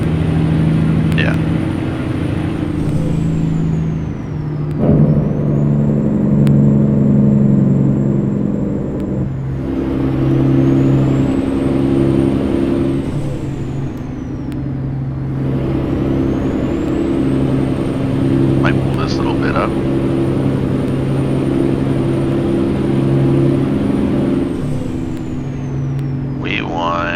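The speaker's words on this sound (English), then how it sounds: "the truck just does all its sounds, like all the talking, like the jake brakes, turbo blowing off" Heavy truck in American Truck Simulator hauling chlorine toward Los Angeles: a loud, continuous diesel drone with engine-brake rumble, gear shifts and changing revs, a high turbo whine rising and falling, and a short air hiss near the end.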